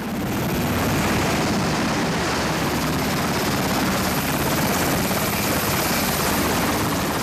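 A helicopter landing on a swaying ship roars loudly and steadily throughout, its thudding rotor and engine noise filling the whole scene without any voices.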